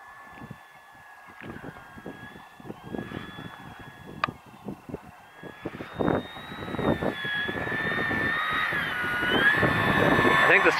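A Durafly Tundra RC model airplane on skis drones past, its engine whine rising and growing louder as it approaches, while people talk nearby.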